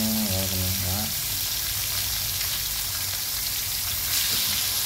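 Marinated lemongrass pork cutlets fry in hot oil, giving a loud, steady sizzle that runs unbroken throughout, with a brief voice speaking over it at the start.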